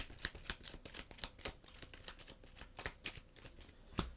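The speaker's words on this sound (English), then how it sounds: "But this gets shuffled back into our deck" Playing cards riffle and shuffle back into a deck during a Marvel Champions card game, a run of quick papery flutters and taps at close range, quiet and with no voice over it.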